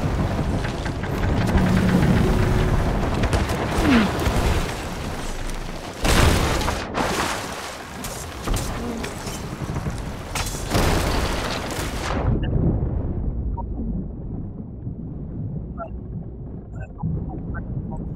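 Ship cannons in the pirate game Sea of Thieves fire in several loud, heavy booms amid sea and ship noise, with players talking over the action before it settles to quieter ambience.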